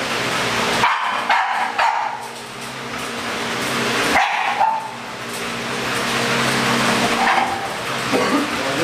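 An American Bully dog barks in a few sharp, loud bursts near the start and again midway, with a whimpering yip, over a constant background rumble.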